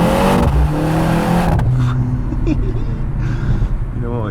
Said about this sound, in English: you know what, you can't get bored of doing that, but just brutal acceleration